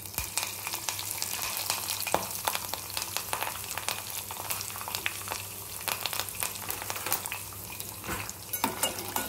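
Urad dal and curry leaves frying in a pan for kothimeera rice, a steady close crackling sizzle with scattered sharper pops and occasional utensil clinks throughout.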